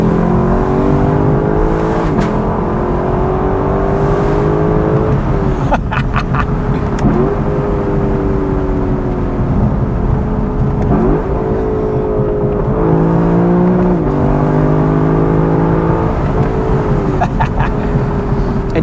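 A 2024 Lexus LC 500 Convertible revs hard and climbs through several paddle-shifted gears in manual mode, its engine note rising in repeated sweeps with quick drops at each fast upshift, loud and close throughout.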